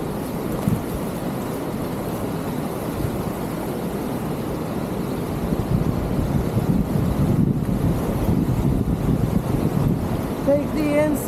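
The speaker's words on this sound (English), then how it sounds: "Uh-oh, here comes the waves." Ocean surf on the Oregon coast beside a waterfall, a steady broad wash of breaking waves swelling louder toward the end, heavily buffeted by wind noise on the microphone.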